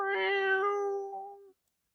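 A single clear cat meow as a sound effect, close and loud, drawn out for about a second and a half before it trails off into silence.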